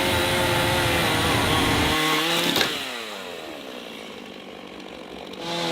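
A chainsaw roars loudly while cutting through a cabin's wooden deck beams, then eases down to a lower idling whine before revving up again at the end.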